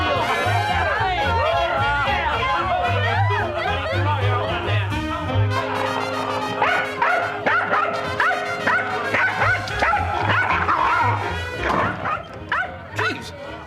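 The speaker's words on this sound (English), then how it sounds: "There's a dog in there." Rollo, a dog bought from a Norwegian, barks and yips in a room behind a door, the sound coming through alongside music and people talking.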